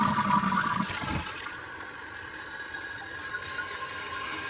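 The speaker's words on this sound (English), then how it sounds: "The next thing you can do is just flush your toilet and try to figure out where the drips are coming from." A household toilet flushing, with water rushing loudly at first and then settling into a steady hiss as the tank refills, close and alone.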